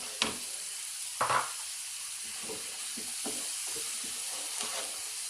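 Chickpeas frying with spices in a pan, a steady soft sizzle with a few louder bursts of stirring and scraping near the start, then a quieter crackle.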